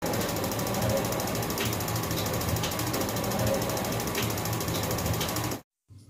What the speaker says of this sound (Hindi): इसको जब मैं ऑन करूंगा तो ये सिर्फ स्पार्किंग की आवाज़ देता रहेगा